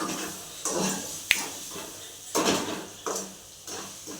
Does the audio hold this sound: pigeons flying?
no